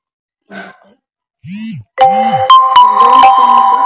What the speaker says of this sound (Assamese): মোৰ মেছেজ আহি গ'ল কাৰণে চাউণ্ড